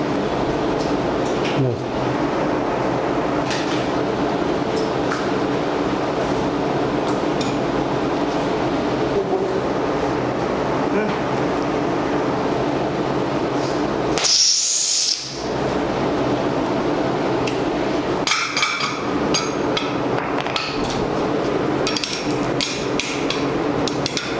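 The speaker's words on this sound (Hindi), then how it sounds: "अभी हम आपको स्टड वेल्ड करके दिखाते हैं।" A stud welding machine set to 900 amps and 0.9 timing welds a 16 mm stud. Continuous mechanical noise and clanks run throughout, with one sharp bright burst midway followed by a brief drop, close and loud.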